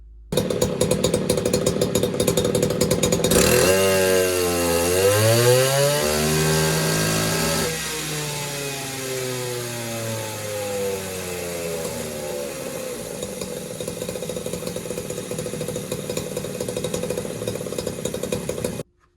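A ported Poulan 3450 54cc chainsaw engine screams at high revs on a dyno, its pitch sweeping up and down through a long loud run before holding a steady howl and cutting off.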